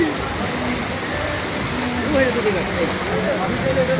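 Rain falls in a steady, continuous wash of hiss with a voice speaking over it.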